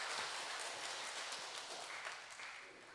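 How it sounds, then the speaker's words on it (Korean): A church congregation applauds together, a dense wash of clapping that holds steady and then gradually fades over a few seconds. "우리 박수 영광 돌립시다"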